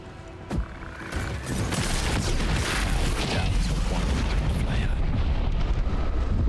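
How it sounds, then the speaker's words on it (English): An alchemist's fire flask explodes in a Baldur's Gate 3 battle with a sudden burst that swells into a sustained, roaring wash of fire and rumbling booms. "throws a single, nearly harmless alchemist's fire forward"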